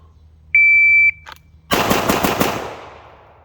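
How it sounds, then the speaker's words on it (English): A Dan Wesson DWX Compact pistol fires a quick burst of about five loud, close gunshots, preceded by a high electronic beep of a shot timer, with the last report ringing out into a fading echo. "Oh, that was only 5 shots."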